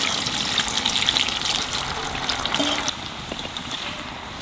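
Potatoes fry in hot oil with a dense, close, bubbling hiss that runs steadily throughout, easing slightly toward the end.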